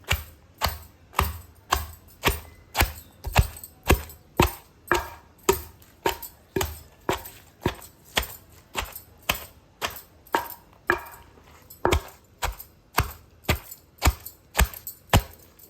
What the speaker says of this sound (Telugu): ఇలా కిందికి పైకి అంతా రోకలతో సమానంగా దంచుకుంటూ నిదానంగా దంచుకోవాలి